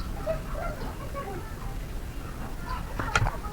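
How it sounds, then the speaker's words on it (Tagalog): Chickens cluck softly in the background over a steady outdoor hum, with a brief sharper squawk near the end. "Okay, manok."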